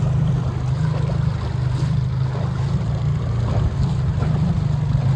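A small skiff cruises along on open water, its outboard engine giving a steady low drone with water wash and wind noise around it, continuous and close throughout.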